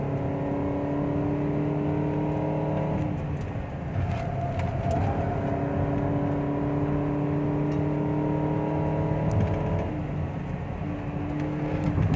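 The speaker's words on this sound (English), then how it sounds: "Dengan beza ni memang you floor je throttle lah." A 2020 Perodua Bezza at full throttle climbs the steep road to Genting, its engine droning loudly and steadily throughout with shifting harmonic tones, one brief dip and rise midway, and no talking.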